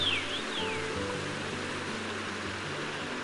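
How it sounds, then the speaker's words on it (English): A mountain brook gurgles at the start of a forest trail. A steady, fairly faint wash of flowing water runs throughout, with a brief high bird-like chirp near the start. "The gurgling sound you hear up ahead heralds your arrival at the Brookside Trail."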